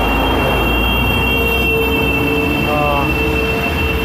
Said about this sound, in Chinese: 这喇叭声好大